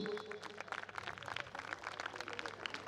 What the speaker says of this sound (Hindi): आज तालियां बज रही हैं